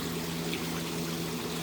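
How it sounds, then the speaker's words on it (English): Steady trickling and pouring of water from a small garden waterfall among potted plants, a continuous gentle wash with a low hum beneath, alone and moderately quiet. "And then back here with the waterfall"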